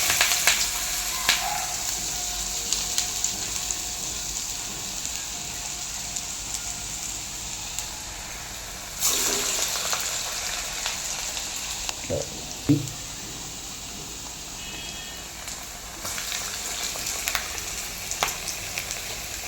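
Moong dal vadas (pesara garelu) fry in hot oil with a continuous close sizzle, broken by a few sharp clatters and bursts as they are handled; a voice is heard at times over the frying.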